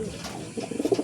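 A Shakhdum pigeon coos in a short, soft, close burst of throaty notes that swell toward the end.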